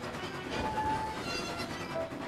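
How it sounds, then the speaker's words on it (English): An animated steam engine rumbles along a railway line, a continuous rolling clatter with a faint whistle tone riding over it, moderately close and without speech. "Thomas was talking to Kana when Gordon puffed past."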